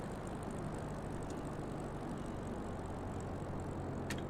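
A Cub Crafters propeller plane drones steadily on final approach in Microsoft Flight Simulator 2024, a continuous engine and propeller hum at moderate level with a faint click near the end.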